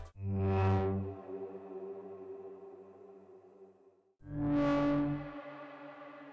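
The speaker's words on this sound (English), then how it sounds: "Modulation adds subtle pitch variations to the reverb tail for a richer, smoother sound" Two bright synthesized tones ring out through a reverb effect, each swelling and then fading into a long, shimmering, pitch-modulated tail; the second tone comes after a brief gap.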